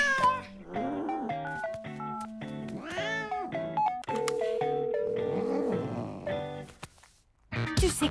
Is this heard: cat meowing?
yes